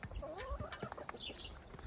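Chicken clucking, a few quick soft clucks close by in a quiet setting, brief and alone.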